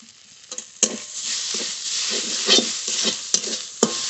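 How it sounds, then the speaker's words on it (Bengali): Mustard greens sizzle in a hot pan with mustard oil while a spatula stirs them, giving sharp scraping knocks at irregular intervals over the steady frying hiss. "নেড়ে নেড়ে একটু ভেজে নেবো"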